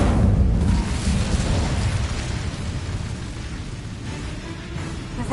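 Incendio fire spell cast in a Harry Potter wizarding game: a loud, roaring whoosh of flame bursts at once, then settles into a sustained crackling, rumbling burn that continues for several seconds.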